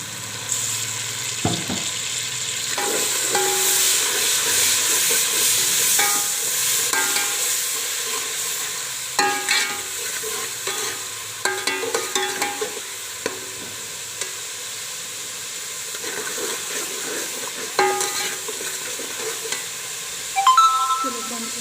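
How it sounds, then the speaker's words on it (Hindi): Steady sizzling of biryani masala frying with a little water in a pan, with intermittent scraping and clinking of a spoon stirring through the mixture; no talking. "थोड़ा सा पानी डाल के भूनेंगे।"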